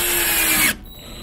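A power drill drives a screw into cement backer board for tile, whirring loud and steady at close range for most of a second before stopping abruptly, leaving a faint hum.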